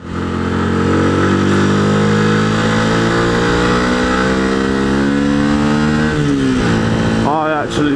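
A Yamaha YZF R125 motorcycle engine revs loud and close, its pitch climbing steadily for several seconds, then dropping back and rising again near the end with no one talking.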